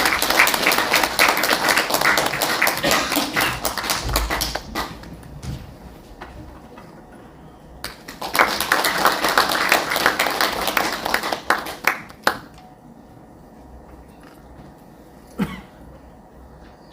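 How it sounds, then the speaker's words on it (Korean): An audience at a Korean symposium gives a speaker a steady round of applause. The clapping stops briefly, swells again, then fades out, with a sharp knock or two near the end. "관장님 앞으로 나와주시고 큰 박수로 맞아주시면 감사하겠습니다."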